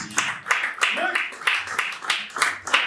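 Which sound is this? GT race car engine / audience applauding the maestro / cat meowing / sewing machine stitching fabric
audience applauding the maestro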